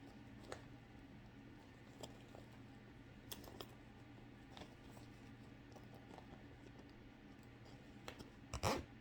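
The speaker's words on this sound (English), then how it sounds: "It's a nice zipper sound for you." Zipper on an Ipsy makeup bag being zipped closed: faint scattered clicks and small rasps in a quiet room, ending in a brief, sharper zip.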